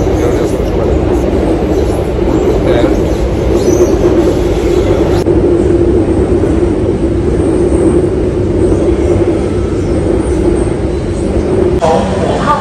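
A Shanghai metro train in motion, heard from inside the carriage as a loud, steady rumble and roar with a brief shift in tone midway and a rattle near the end.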